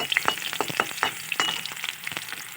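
Onions frying in a pan crackle and pop in a busy, close sizzle, with dense bursts of spattering and stirring that continue throughout.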